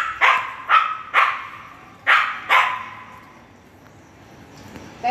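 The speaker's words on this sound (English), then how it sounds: "dog keeps on barking." A dog barks five times in quick bursts, fairly close and loud, then falls quiet with faint background noise.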